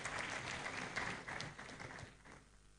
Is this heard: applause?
yes